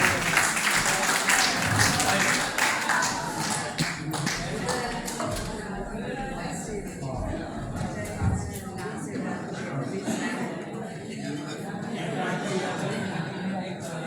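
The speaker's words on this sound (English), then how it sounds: "A big round of applause for Dr. Srinivasan." An audience claps for Dr. Srinivasan at a 25th anniversary function, a dense round of applause that is loudest at first and then thins, with voices and some laughter mixed in.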